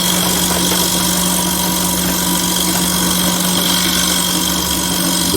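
A wood lathe turns a wooden bowl while a gouge cuts it slowly, giving a loud, steady motor drone with a constant hum and an even scraping texture throughout.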